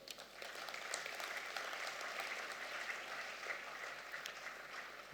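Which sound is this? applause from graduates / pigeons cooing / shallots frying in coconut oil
applause from graduates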